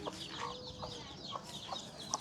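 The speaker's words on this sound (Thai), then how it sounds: "ไก่" A chicken clucks several times in short, faint bursts at a rural house-building site, with quiet outdoor background noise and no talking.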